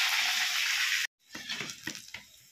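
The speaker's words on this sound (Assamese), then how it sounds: "এয়া আলু ফ্ৰাই কৰি আছোঁ" Potatoes fry with chunks of paneer and onion in a pan. A loud, dense sizzle breaks off abruptly, then gives way to quieter bursts of frying and stirring clatter, without speech.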